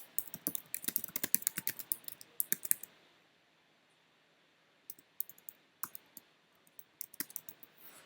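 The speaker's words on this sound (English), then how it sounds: "when I type in" Typing on a computer keyboard, close and crisp: a rapid burst of key clicks for about three seconds, a pause, then sparser keystrokes and taps resuming, with no talking.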